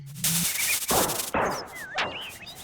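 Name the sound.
Explosion alchemy spell in Secret of Evermore video game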